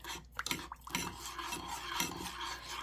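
A spoon stirring a sugary candy mixture in a pot as the sugar dissolves, giving a few close, gritty scraping strokes over a couple of seconds.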